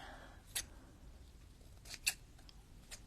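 Scissors snip a small trim on a Halloween-meets-Christmas craft piece, three quick crisp cuts spaced apart, faint and close against a quiet room.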